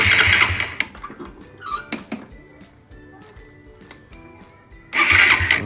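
A Suzuki Satria FU carburetor motorbike engine cranks on a cold start in short bursts, stuttering starter whirs separated by pauses, then a louder sustained crank at the end.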